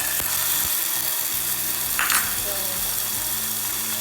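Tempering spices crackle and sizzle in hot oil, loud and close, for a steady few seconds. A brief sharper hiss flares up near the middle.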